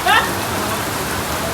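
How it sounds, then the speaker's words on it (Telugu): Rain falls in a steady, dense hiss throughout a short stretch, fairly loud and close, with a brief higher-pitched sound at the very start. "కానీ వర్షం స్టార్ట్ అయింది"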